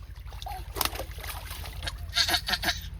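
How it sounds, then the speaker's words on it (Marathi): A small child splashing in cold bath water, with scattered splashes and water sloshing close by, a steady low hum underneath and a few voices in the background. "आरू कसा गार पाण्यात आंघोळ करतोय."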